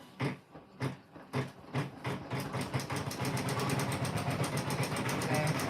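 A Janome M17 embroidery machine stitches a quilt block in the hoop, starting with several slow, separate thumps before settling into a rapid, steady whirring run, close and loud.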